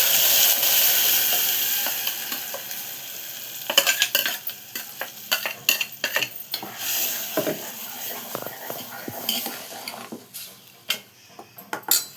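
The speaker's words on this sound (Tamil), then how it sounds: "நல்லா பொரிஞ்சோடனே இந்த மசாலாவை நம்ம ஊற்றிக்கணும்" Masala paste and tempering frying in a pan, a steady sizzle with repeated scraping and clanking of a metal spoon stirring against the pan, close and continuous.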